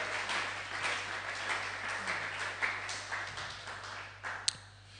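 A church congregation applauds during a French-language seminar, a continuous mid-distance patter of many hands clapping that fades toward the end, with a sharp tap near the close.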